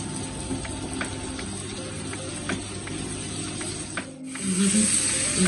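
Pumpkin and onion greens sizzle steadily in a hot pan, a continuous close hiss of frying with faint scraping clicks, growing a little louder near the end.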